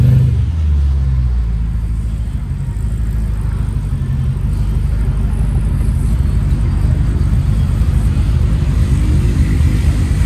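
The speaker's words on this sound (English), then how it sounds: "Super clean convertible Skylark on the 24-inch Daytons." A Buick Skylark convertible on 24-inch Dayton wheels gives off a steady, loud, low engine rumble and drone, idling or cruising close by with no clear revs, no talk over it.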